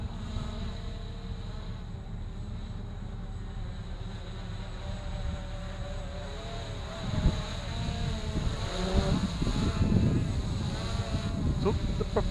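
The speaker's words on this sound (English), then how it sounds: "So the propellers just spin at one speed?" A quadcopter drone's propellers whine in a steady insect-like buzz on a windy, rainy, cold day, with rumbling gusts and handling noise swelling over the drone in the latter half.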